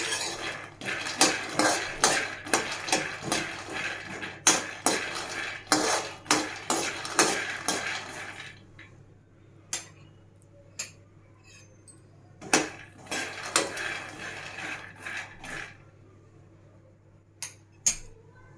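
A spoon or spatula stirs peanuts roasting in a dry pan, making dense rapid metallic scraping and clinking for about eight seconds that then thins into sparse, quieter clinks against a steady low hum.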